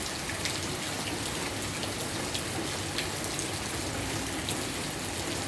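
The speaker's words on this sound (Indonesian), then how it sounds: "intensitas hujan mulai turun" Heavy rain that is beginning to ease falls over a residential housing complex, a steady, dense hiss of drops hitting surfaces with no voices.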